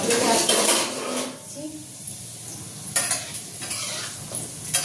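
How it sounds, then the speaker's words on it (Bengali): Cashew nuts and raisins frying in a pan, with steady sizzling under repeated scraping and stirring strokes of a metal spatula and clinks against the cookware, close and fairly loud throughout. "এখানে নিয়েছি কিছু কাজু বাদাম আর কিশমিশ, এটাকে আমি ভেজে নিচ্ছি"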